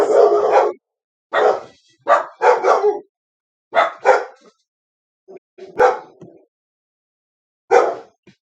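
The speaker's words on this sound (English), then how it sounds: "Dog's barking at something outside." An indoor dog barking at something outside, a string of sharp, loud barks in irregular bursts with pauses between, some short and yippy, close by.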